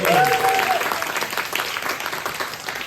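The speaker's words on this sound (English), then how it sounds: "So another big round of applause" An audience at a business talk on productive activity breaks into applause, fairly loud at first and then thinning and fading somewhat; a voice is briefly audible over the start.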